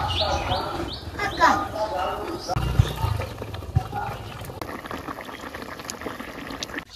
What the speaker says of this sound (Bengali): জল উতলেই গেছে, এখন আমি মাছ দিয়ে দেবো।